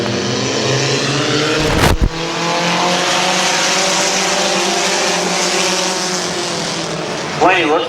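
Several race cars roar around a small speedway during a six-car night race, engines droning loud and steady with tires squealing, a sharp burst of passing noise partway through and a commentator talking over the action.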